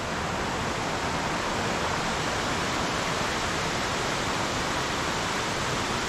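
Waterfall in Sounkyo gorge, Daisetsuzan, a steady loud roar of falling water filling the whole clip without a break and with no voices.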